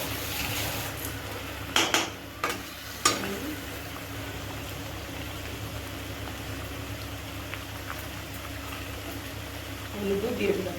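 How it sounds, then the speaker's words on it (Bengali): Spice paste sizzles softly in a pan as it is stirred, with a few sharp scraping clatters of a spoon early on and a low continuous frying hiss throughout. "আমি এটা সব ভালো করে কষাই নেব।"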